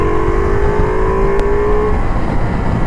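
A Ducati Multistrada V4 S motorcycle engine pulls hard, its tone rising steadily as it gathers speed, loud and close over heavy wind roar, with no voices.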